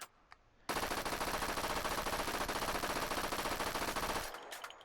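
Full-magazine burst of gunfire in the video game H3VR, a rapid, unbroken stream of close, loud shots lasting several seconds before cutting off abruptly.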